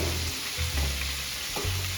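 Basmati rice frying in a wok on a gas cooker, a steady close sizzle with scraping stirring strokes breaking through at intervals.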